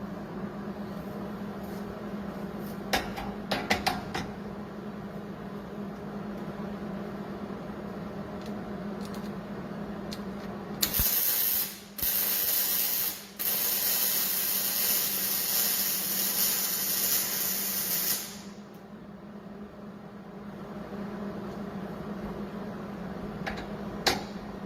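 Welding steel bed caps for a 1957 Chevy produces a harsh, steady crackling hiss lasting several seconds with two brief breaks, set between quieter stretches of workshop clatter and hum.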